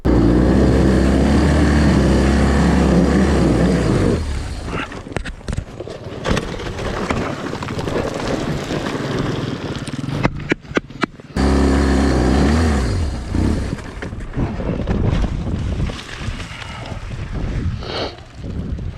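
BMW HP2 Enduro hard-enduro motorcycle engine revving under throttle, a loud close roar that drops after a few seconds into uneven blips and surges with wind buffeting, no talk.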